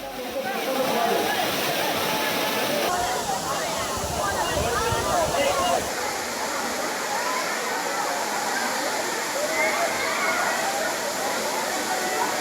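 Courtallam waterfall pours steadily into a bathing pool crowded with people, a loud, continuous rushing roar that fills the whole scene, with a faint murmur of the crowd beneath it.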